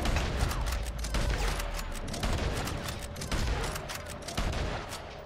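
Sniper rifle shots in Red Dead Redemption 2 Online PvP crack repeatedly over a dense, clattering game soundscape, sharp reports arriving irregularly amid mechanical clicks and rattles.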